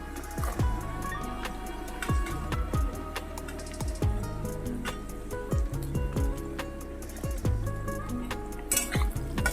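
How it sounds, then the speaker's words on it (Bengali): Garlic and onions fry in a pan while being stirred: a steady sizzle runs beneath repeated, fairly rhythmic metallic scrapes and clinks of the spatula, close and moderately loud throughout. "রসুনটা দিয়ে একটু নাড়াচাড়া করে নেব"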